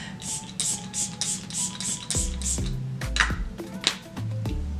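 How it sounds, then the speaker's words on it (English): A quick series of short, evenly spaced bursts of Milk Hydro Grip makeup setting spray hiss close up, followed by a few soft handling clicks and rustles. "So I'm gonna spray with my Milk Hydro Grip spray"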